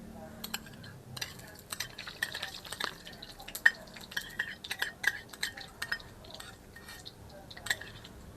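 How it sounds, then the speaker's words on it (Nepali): Ghee going into a hot pan on a stove while making Nepali-style rice pudding, heard as a steady low sizzle broken by many small clinks and taps of a spoon against metal, close and fairly quiet. "यो अब म चाहिँ घिउ हाल्दैछु।"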